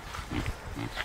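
A pig on a farm, near the goat pen, gives a few low grunts and oinks in quick succession, close by and moderately loud.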